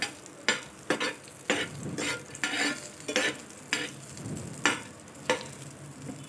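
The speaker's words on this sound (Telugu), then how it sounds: "ఎండు ద్రాక్షను వేసుకొని కొంచెంగా దూరగా వేయించుకుందాము." Cashews, almonds and raisins frying in ghee, a steady close sizzle broken by repeated scraping stirs of a spoon in the pan, with no voices.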